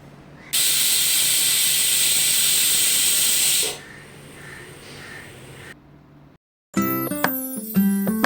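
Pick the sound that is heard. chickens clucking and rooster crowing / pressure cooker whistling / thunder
pressure cooker whistling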